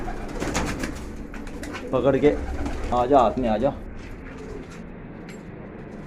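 Pigeons kept on a rooftop coo steadily through the clip, and someone speaks close by over them.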